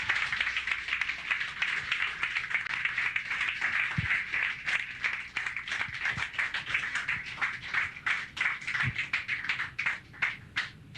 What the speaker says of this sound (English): Let's give another round of applause for the players.